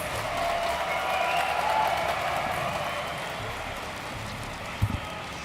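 A crowd at an esports StarCraft II grand final applauds and cheers continuously in a dense, hissing wash of clapping, with a brief thump near the end.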